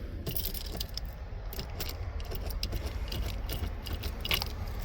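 Keys jangling and clinking near a car during a search for them, light metallic rattles scattered over a constant low rumble of background noise.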